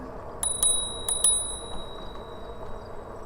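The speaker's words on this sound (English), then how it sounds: "If you're wondering what my bell sounds like" An e-bike's bell rung outdoors on a rainy day, two quick pairs of bright metallic dings with a lingering ring over steady background noise.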